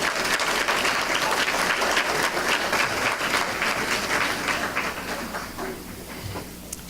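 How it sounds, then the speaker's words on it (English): An audience at a Rotary service fair for middle school students applauds steadily, a dense, even clapping throughout that tapers slightly toward the end, with no talk over it. "Let's give them a round of applause."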